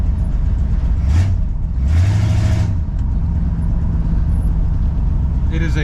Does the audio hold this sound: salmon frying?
no